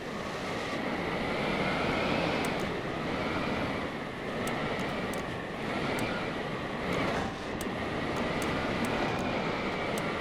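Steady, loud engine drone with a rough, buzzing roar and faint high-pitched whines, like propeller aircraft engines, from a flying machine in the video game Scrap Mechanic, running continuously throughout.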